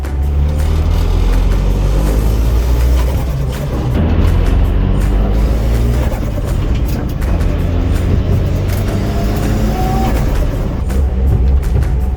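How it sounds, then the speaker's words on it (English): A rally car at a Kenya National Autocross round in Nakuru roars loudly from inside the cabin, its engine droning and revving continuously with heavy low rumble and road noise throughout. "it's not every day where you get invited to ride in a rally car."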